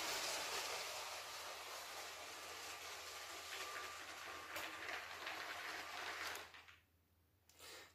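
A toy brick model of the class 628 railcar runs through track 3 of a layout, a steady rolling clatter with faint clicks for several seconds before it fades away into near silence.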